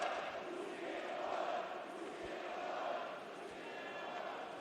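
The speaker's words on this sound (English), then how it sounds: "See the crowd chanting Jurchina, Jurchina for Sparta Prague" A large ice hockey crowd chants in support of Sparta Prague during a match against Växjö Lakers, a steady dense roar of many voices filling the arena, heard from a distance and continuous throughout.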